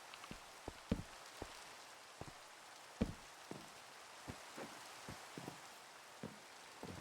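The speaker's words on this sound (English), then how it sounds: "it's definitely really nice to have rain" Rain falls steadily in a Minecraft world running the All the Mods 9 modpack, a soft constant hiss with scattered sharp drip and tap clicks over it, played alone with no voices.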